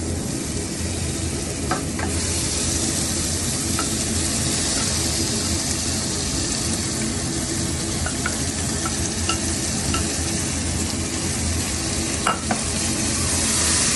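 Chicken frying in a pressure cooker for biryani gives a steady, loud sizzle that hisses continuously, broken by a few light scrapes of stirring, with no talking.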